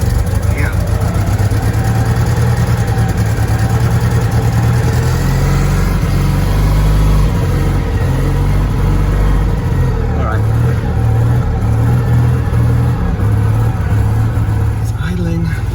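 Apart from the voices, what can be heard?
Citroen 2CV engine idling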